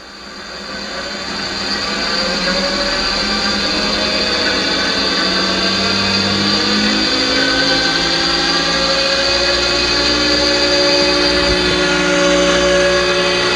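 A restored Clausing 6x12 surface grinder's motor spins up in reverse, rising over the first two seconds into a steady, smooth electric hum with a bright whine, loud and continuous, with no talk.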